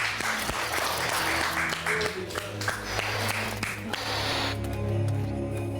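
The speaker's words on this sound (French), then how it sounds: "On peut l'applaudir pour l'encourager." A crowd claps for several seconds, the applause steady and dense, with some background noise and a tonal hum underneath.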